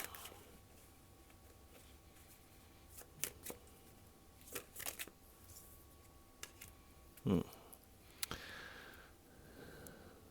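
Tarot cards are shuffled and drawn, with scattered short papery flicks and snaps spread across the clip. Between them is a quiet background, and a louder riffle comes near the end.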